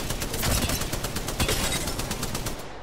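Gunfire in the Apex Legends video game: loud, rapid automatic bursts with evenly spaced shots, close and dominant, running for about three seconds.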